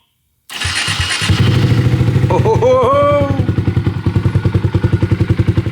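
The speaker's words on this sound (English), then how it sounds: "First startup ever on the Grom." A Honda Grom motorcycle fitted with a cheap aftermarket exhaust is started for the first time: brief cranking, then the engine catches and settles into a loud, close, rapid idle with a few throttle blips.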